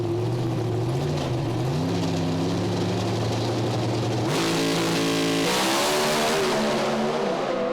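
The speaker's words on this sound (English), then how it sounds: "Well, that's Jason Hedges' best launch of the weekend" Drag racing cars launch down the strip at a Speedweek event, engines roaring loud and sustained with rising pitch, a sharp shift in tone partway through as they accelerate away.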